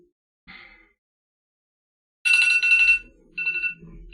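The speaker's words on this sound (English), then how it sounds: "Alright, 10:15 tilt alarm." Trading alarm set for a 10:15 tilt signal during futures trading, ringing in loud electronic tones: a short beep, then a longer ringing burst and another tone after a brief gap.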